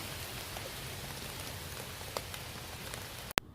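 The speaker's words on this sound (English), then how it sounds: "But as you can see, it's raining. It's coming down." Steady rain falls outdoors on a lawn, a soft continuous patter with a few sharper drops, ending in a brief knock.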